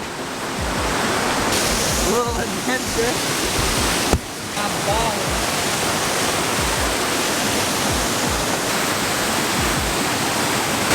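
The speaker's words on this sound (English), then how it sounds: "Holy hell, look at this. Look at the waterfall." A rushing waterfall roars in a steady, loud broadband wash that continues throughout, while voices talk over it.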